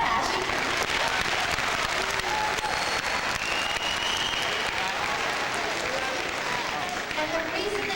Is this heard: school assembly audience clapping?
yes